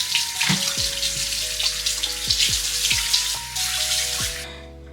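Lukewarm tap water runs from a faucet into a sink, a steady close hiss of splashing water with a few low knocks and tones beneath, cutting off at the very end.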